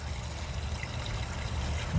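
Water draining through a concrete sewer line, heard from inside the pipe near a manhole as a steady low rushing trickle with a constant hollow rumble, continuous and moderately loud throughout.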